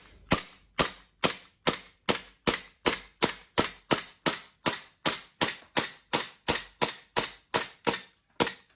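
A Glock 17 gas blowback airsoft pistol fires on weak gas: about twenty sharp, snappy cracks in a steady rhythm, each with a quick slide clack, loud and close with no talking.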